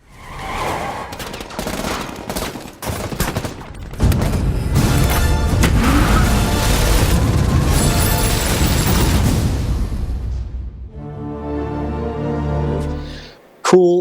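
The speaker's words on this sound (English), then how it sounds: "two Gatling guns come popping out of the headlights, and does a donut and just wipes everybody out" Trailer action sequence with dense, loud rapid gunfire from Gatling guns popping out of a car's headlights as the car spins in a donut, a sustained barrage over engine and crash noise, ending in a tonal musical hit.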